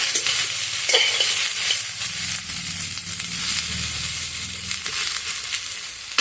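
Boneless spicy meat with soybean frying over low heat in a pan, a steady close sizzle with the scrape and clatter of a spatula stirring through it, no talking.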